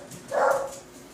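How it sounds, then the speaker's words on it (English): A dog gives a single short bark, close and fairly loud, with no other sound around it. "The dog started barking at the wind."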